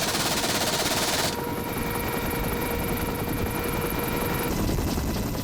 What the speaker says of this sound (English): it has recently acquired a new half-inch caliber machine gun for use against fast-moving craft